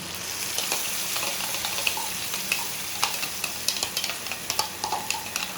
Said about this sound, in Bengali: এবারে আমি এই পেস্টটা দিয়ে দিচ্ছি